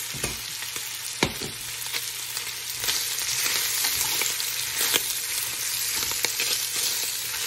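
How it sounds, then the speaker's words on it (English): Mushrooms fry in a hot pan with charred vegetables for a hearty Italian soup, giving a steady, dense sizzle throughout with occasional sharper crackles and spatters, close and fairly loud with no talking. "So when it's charred on each side, you go ahead and add your mushrooms."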